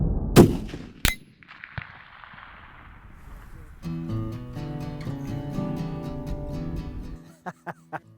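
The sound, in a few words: rifle shot hitting 12 by 12 steel plate target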